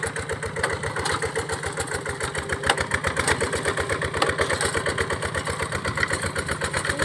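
An old farm tractor engine chugs steadily at idle, its rapid, even pulsing thump continuing without a break and with no voices.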